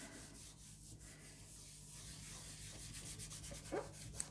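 A piece of card rubbed firmly over Yupo paper for an alcohol ink transfer gives a faint, steady, continuous dry rubbing hiss, close but quiet, with no speech.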